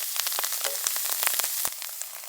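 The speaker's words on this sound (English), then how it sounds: "Make sure we get both sides seared on all these." Morel mushrooms searing in a pan give a steady close crackling sizzle with dense spits and pops, briefly softening near the end.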